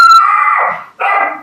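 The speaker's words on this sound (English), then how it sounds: "My dog just started barking." A dog lets out a loud, close bark that stretches into a howl-like yelp, followed by a second short bark after a brief gap.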